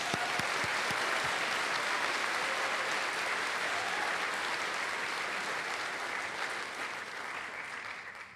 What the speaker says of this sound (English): Please join me in a round of applause for all our employees